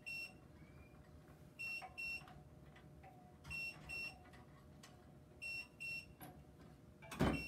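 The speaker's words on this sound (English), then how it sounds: "Close it down, push the start button, the beeping will stop." A sublimation heat press pressing a beer stein gives repeated short electronic beeps in pairs and singles at a steady interval, fairly clear over a low hum, ending with a brief clunk.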